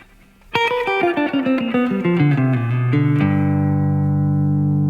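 A plucked acoustic guitar runs down a quick descending blues-scale line of single notes, then settles on a ringing chord that sustains to the end.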